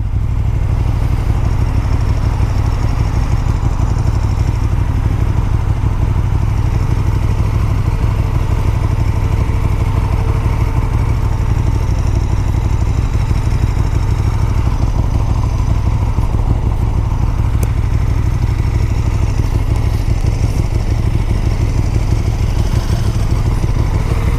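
A KTM 1290 SuperDuke R motorcycle engine runs steadily nearby, a loud deep rumbling idle with a throbbing low pulse and faint mechanical clatter throughout.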